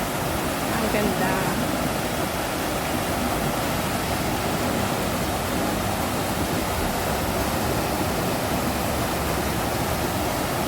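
The waterfall at Inspiration Lake in Hong Kong gives a constant, dense rushing roar, close and unbroken, with faint voices mixed in.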